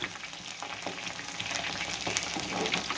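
Green chillies and curry leaves fry in hot oil with a steady, close sizzle and bubbling crackle that keeps up throughout, with no talk.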